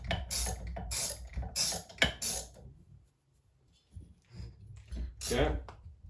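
A hand tool torques down bolts on an old Jonsered 80 chainsaw, giving close bursts of ratcheting clicks and metallic rattles with short pauses between them, and someone talks over parts of it.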